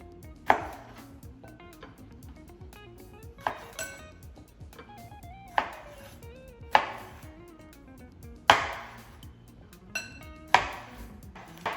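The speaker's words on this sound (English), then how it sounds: "Next, I'm going to slice my cherry tomatoes." A knife slices cherry tomatoes on a cutting board for a beef and lentil pasta, giving about eight sharp, separate chops at irregular intervals with quiet pauses between them, close and alone.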